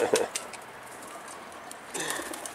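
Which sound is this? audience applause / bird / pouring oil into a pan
bird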